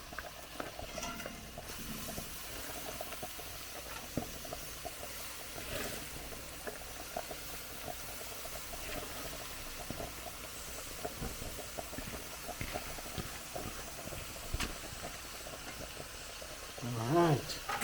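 Cabbage steams and simmers in a hot pot alongside Jamaican curry saltfish, a steady soft hiss and bubbling with faint clinks, continuing evenly at a moderate level before a brief louder stir near the end.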